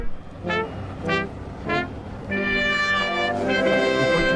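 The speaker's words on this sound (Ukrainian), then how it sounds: "Зараз чуємо гімн Ватикану" A brass band plays the Vatican anthem: a few separate held notes, then full sustained chords ringing out loudly, with no talking.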